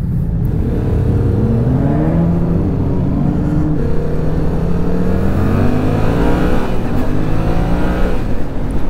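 A Yamaha MT-07 motorcycle engine revs and accelerates loudly and close on a test ride, its pitch sweeping up and down through gear changes with a steady throaty rumble.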